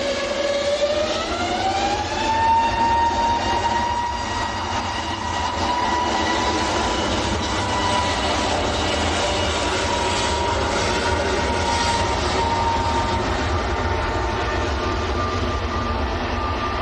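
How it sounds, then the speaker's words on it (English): An EasyJet Airbus A321neo jet takes off at Manchester Airport, its engines spooling up into a loud, sustained whine with a rising tone that levels off over a constant roar, heard alone. "EasyJet A321 Neo next to go"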